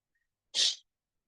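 A single sharp sneeze bursts out once, close and clear, in an otherwise silent room.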